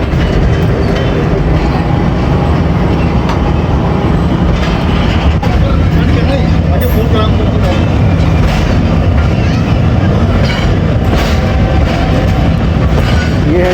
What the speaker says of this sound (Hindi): बसीरपुर से डिपार्ट कर रही है हमारी ट्रेन 38 डाउन बाबा फरीद एक्सप्रेस